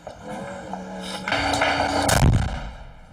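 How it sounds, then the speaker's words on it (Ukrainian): A heavy tank cannon blast booms out after a low rumbling engine drone, loud and close with a lingering roar, near Donetsk airport. "в кадрі танк, що стріляє по-новому"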